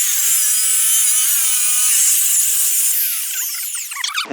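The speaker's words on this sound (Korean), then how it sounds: "특히 전기톱을 쓸 때는 가장 조심해야 돼요" An electric chainsaw screams through wood at close range, a loud high-pitched whine that wavers and then breaks into ragged bursts near the end.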